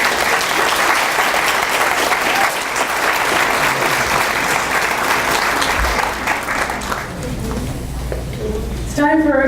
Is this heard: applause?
yes